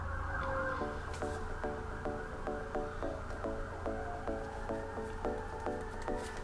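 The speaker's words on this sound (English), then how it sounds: "we hear more sirens in the back" A repeating electronic siren pattern sounds continuously at a distance, pulsing in a steady rhythm over low background rumble.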